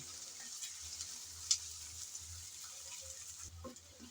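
Ginger and garlic paste sizzles gently in a pan while being stirred, a faint, steady hiss with one brief sharp crackle partway through.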